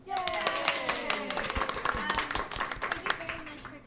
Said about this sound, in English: Can we get a round of applause for our wonderful panelists?